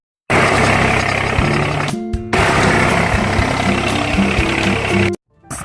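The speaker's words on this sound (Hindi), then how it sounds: "थोड़ा सा ट्रैक्टर चलाया, पूरा टेढ़ा मेरा खेत" A tractor engine runs on a farm field, loud and close. Its steady idling rumble has a faint knocking beat and a brief drop partway through, with no talk over it.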